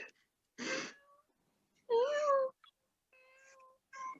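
A cat meows in several separate calls, some short and one long and rising, with a human voice mimicking meows between them in a quiet room.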